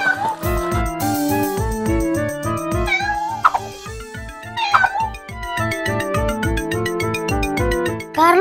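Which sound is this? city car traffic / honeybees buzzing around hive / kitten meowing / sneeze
kitten meowing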